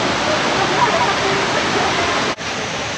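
Kuang Si waterfall in Laos roars as a steady, dense rush of falling water, loud and close, holding constant throughout with only a brief dip near the end.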